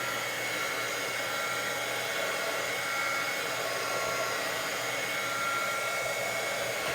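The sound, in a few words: hair dryer drying glue on a journal page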